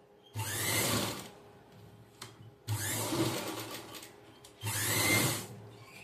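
A plain sewing machine stitches the fall onto a saree in three separate whirring bursts, each about a second or two long, with quiet pauses between them.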